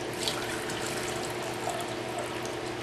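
About three cups of warm water pour steadily into a clean pickle pot used for cleaning gold and silver, giving a continuous close hiss and trickle with no talking.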